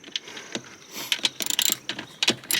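Wrench ratcheting and metal clicks as an ill-fitting socket keeps slipping off a fastener on a BMW E36, a series of short sharp clinks and rattles, close up with no talking.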